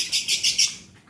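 A lovebird gives four quick, bright chirps in a steady rhythm, close and clear. A faint, brief call trails off after them, and no one speaks.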